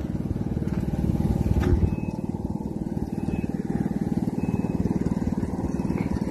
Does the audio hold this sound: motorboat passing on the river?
yes